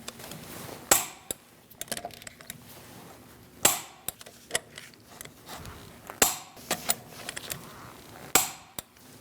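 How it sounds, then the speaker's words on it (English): A torque wrench tightens the wheel nuts on a 2000-2006 Mini Cooper, giving several sharp clicks spaced a few seconds apart over faint background noise and small handling sounds. "We're going to torque our wheels to 95 foot-pounds."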